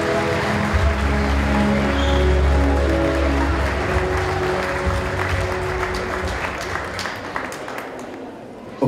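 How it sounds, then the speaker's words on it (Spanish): Audience applause for students at a 2023 school graduation ceremony, sustained clapping that fills the hall under a low hum and fades toward the end. "Que se sienta fuerte ese cariñoso aplauso"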